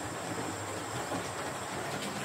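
A Hornby model GWR Star class express passenger locomotive runs on a model railway, giving a continuous, even rolling hum with a high whine on top and faint rhythmic clicks, with no talk.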